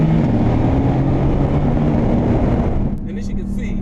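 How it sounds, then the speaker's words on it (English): A 2017 Mercedes-AMG GT S accelerating hard in Sport Plus mode, its engine giving a loud, sustained roar that cuts off abruptly near the end, leaving a quieter rumble. "I'm gonna put this car in Sport Plus mode, and the suspension's already in Sport Plus. I'm just gonna get on it so you can hear what it sounds like."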